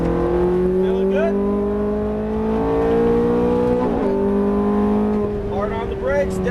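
A Ferrari F430 engine pulls hard on a race track, its tone rising steadily through the revs with a shift midway, loud and close from inside the car, and an instructor's voice coaching over it.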